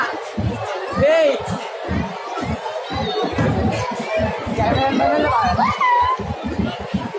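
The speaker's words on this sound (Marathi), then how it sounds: "बघू शकता गर्दी खूप आहे, गर्दी जाम भाव्या" A large crowd packs the Ekvira temple, a dense, continuous babble of many voices with shouts and chatter close around, while someone talks over the din.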